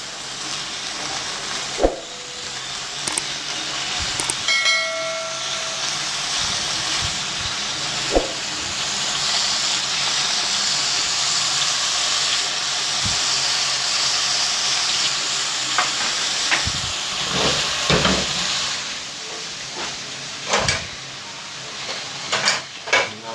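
Chicken sticks sear in a spoonful of oil in a kadhai, a loud, steady sizzle that runs throughout, with occasional clanks and scrapes of utensils against the pan; no talking.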